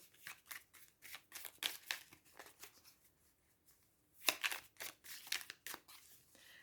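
A deck of tarot cards is cut and handled up close, giving a run of sharp, papery slaps and riffles in short bursts, with a brief lull in the middle before a louder flurry of card snaps.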